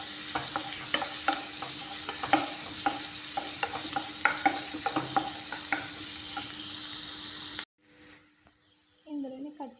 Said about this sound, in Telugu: మంచిగా బ్రౌన్గా అయిపోయిన వరకు వేయించుకోవాలండి.